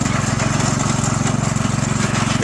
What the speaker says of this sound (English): you can hear the tiller struggling a little bit since it's sand